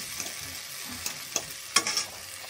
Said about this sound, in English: Add in the cornstarch. I'm going to stir this.